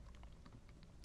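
Typing on a computer keyboard during a programming lecture: a quick run of soft, light key clicks, faint and close, with a slightly sharper tap at the end.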